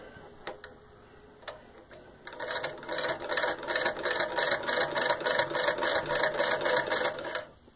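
An antique 1890s New Remington treadle sewing machine stitches through four layers of denim, starting with a few scattered clicks and then settling into a steady, loud run of rapid rhythmic mechanical ticking close by.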